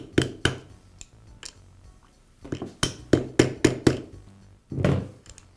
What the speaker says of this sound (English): I'll place it over the shaft and use a socket to tap it into place